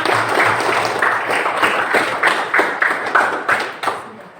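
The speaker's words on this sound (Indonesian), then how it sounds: "Beri tepuk tangan untuk kita semua." A group of people clapping steadily, a loud dense round of applause that continues throughout without fading.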